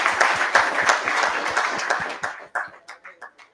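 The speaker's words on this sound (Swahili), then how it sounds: "Si mmepigia makofi akikuja bana." An audience applauds an artist at a creative-arts event in Meru, dense clapping that thins out to a few scattered claps near the end.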